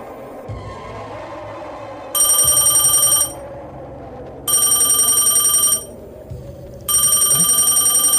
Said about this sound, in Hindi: लगता है इसके पापा का फोन आ रहा है।